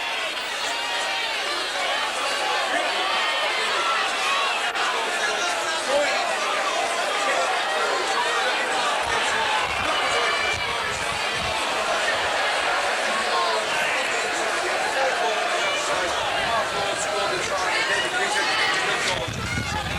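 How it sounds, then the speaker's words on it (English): Stadium crowd at a Castleford versus Leeds rugby league match, a steady dense roar of cheering and chatter held at an even loud level throughout, far and wide rather than close. "And tremendous enthusiasm from the crowd as well."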